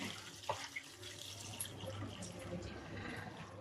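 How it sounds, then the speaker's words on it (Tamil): Water runs and splashes steadily into a sink, a soft continuous trickle with a few small drips, fairly quiet and close. "கொஞ்சம் தண்ணி கீழே ஊற்றிக்கலாம்."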